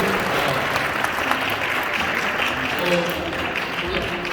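Applause from a wedding audience during a ceremony song: steady, dense clapping from a crowd, sustained for several seconds, with a voice talking over it.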